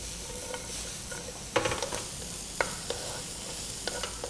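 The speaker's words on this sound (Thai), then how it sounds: "ผัดประมาณสัก 2-3 นาทีนะครับ ให้แครอท สุกดีครับ" Carrots and shiitake mushrooms stir-fried in a hot pan, a soft steady sizzle broken by several sharp scraping and tossing clatters of the utensil, close and fairly quiet with no talking.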